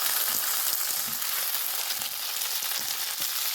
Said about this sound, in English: Add in the tomato.